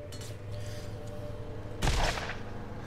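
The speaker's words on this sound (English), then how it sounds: "What was that shot?" A single burst of gunfire in the video game Borderlands lands near the end, a short, moderately loud crack over a low steady game hum.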